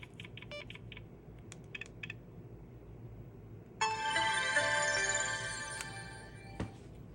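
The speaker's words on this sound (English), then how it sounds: "That's an old shutdown sound" An old mobile phone plays its shutdown tone, a bright multi-note electronic chime that rises and sweeps for about two seconds, preceded by light keyboard-like clicks and ending with a sharp tap.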